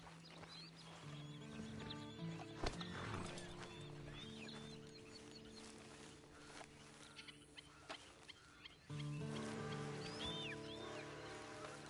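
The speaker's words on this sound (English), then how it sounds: "Then you better get on this horse." A horse in Red Dead Redemption 2 moves and snorts with scattered hoof clops and a short neigh over a quiet game ambience, faint and intermittent, with no clear speech.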